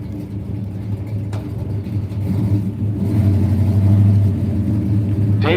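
A 1964 Chevelle convertible at a dragstrip, its engine rumbling steadily and building louder toward the end, with faint talk underneath.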